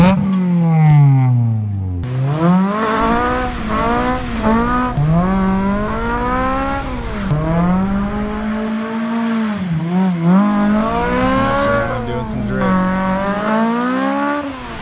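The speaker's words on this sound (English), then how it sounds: "This is the car, pulling it out of the garage." A Honda S2000 sports car drives out of a garage, its engine loud and close with a rising and falling rev that climbs repeatedly throughout.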